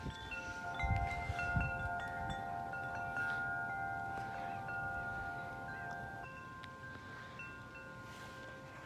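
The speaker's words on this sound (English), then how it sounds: "Still pretty windy." Strong winter storm wind on a very cold day, a steady broad rushing roar with gusts, while wind chimes ring sustained tones over it early on.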